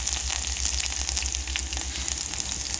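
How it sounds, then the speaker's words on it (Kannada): Green chillies and garlic paste fry in hot oil for betageri chutney, producing a steady close sizzle with crackling spatters and a low hum underneath. "ಹಸಿಮೆಣ್ಸಿನ್ಕಾಯಿ ಎಣ್ಣೆಯಲ್ಲಿ ಫ್ರೈ ಆಗೋದ್ರಿಂದ ಸ್ವಲ್ಪ ಖಾರ ಕಡಿಮೆ ಆಗುತ್ತೆ."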